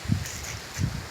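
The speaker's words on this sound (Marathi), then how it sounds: "बघा, वादळी वारा चाललाय." Strong stormy wind before pre-monsoon rain in March, gusting in two low rumbling surges with leafy rustle between, close to the microphone and with no talk.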